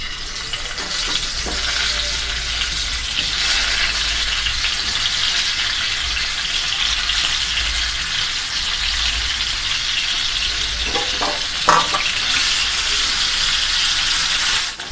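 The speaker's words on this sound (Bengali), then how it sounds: "সেই তেলে আমি ডিমগুলো ভেজে" Eggs fry in oil left from browning onions, giving a loud, steady hiss of sizzling with occasional spatula taps, close and uninterrupted.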